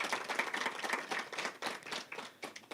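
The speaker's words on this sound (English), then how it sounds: "Please give our guest of honor another round of applause." Applause for a guest of honor at an evening event: a short burst of scattered hand clapping from a modest audience, fairly faint and uneven, with individual claps audible.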